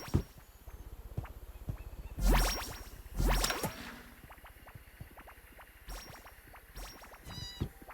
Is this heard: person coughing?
no